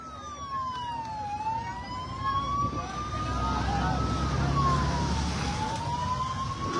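A fire brigade truck's siren wails in slow rising and falling sweeps, loud and steady over the rumble of traffic, with a few voices faintly underneath.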